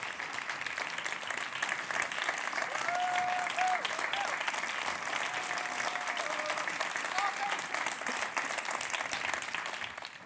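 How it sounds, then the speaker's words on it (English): An audience at an awards gala claps steadily for the winners, a dense sustained applause throughout, with faint cheers or voices rising briefly inside it. "let's have a big round of applause for the winners."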